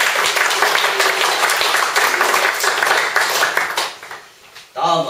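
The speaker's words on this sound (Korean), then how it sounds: "박수 한번 치겠습니다." Applause from an audience at a Won Buddhist training meeting, steady dense clapping that fades out near the end before a voice cuts in.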